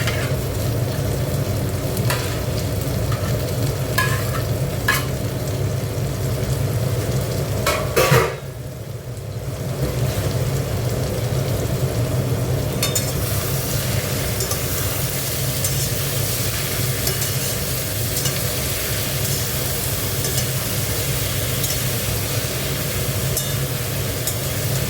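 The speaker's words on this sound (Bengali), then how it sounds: "চিংড়ি মাছগুলো দিয়ে দিচ্ছি।" Shrimp fry in a pan with a loud, constant sizzle, while a utensil stirs and clinks against the metal now and then; a brief dip breaks the frying noise partway through.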